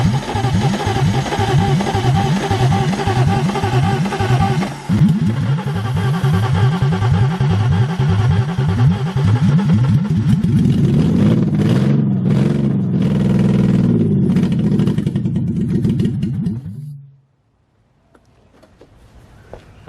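A BMW E36 with an S52 cam tune idles roughly and lumpily, then its engine is revved up and held high in rising, droning sweeps before cutting off abruptly into near silence.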